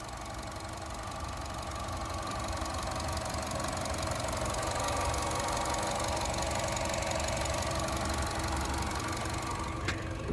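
A 2020 Chevrolet Sonic Premier's 1.4-liter turbocharged engine idles with a steady, even hum and faint ticking, close by and unchanging throughout, with a brief click near the end.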